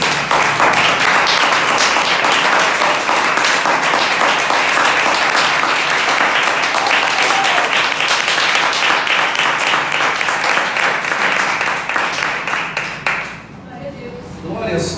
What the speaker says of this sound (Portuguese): Vamos louvar a Deus com as palmas mais uma vez.